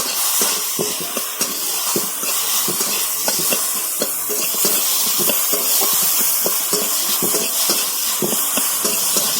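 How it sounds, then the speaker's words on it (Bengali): Spices with turmeric and chili powder fry in a pan with a loud continuous sizzle, while a spatula scrapes and taps the pan in frequent uneven strokes, close up, with no talking. "লঙ্কা গুঁড়ো, দিয়ে ভালো করে আমি কষিয়ে নেব।"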